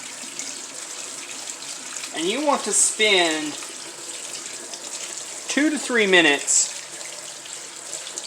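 Canned carrots are rinsed under a cold running tap, a steady broadband water hiss running throughout, with a person talking over it.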